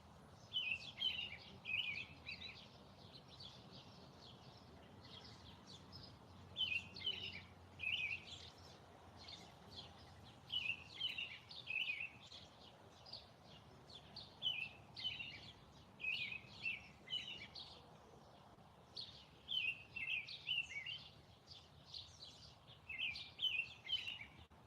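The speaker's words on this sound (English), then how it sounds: "Listening to the birds." Birds, including robins, sing outdoors near a barn, repeated clusters of bright chirps and song phrases recurring every few seconds over a quiet background, moderately distant and faint.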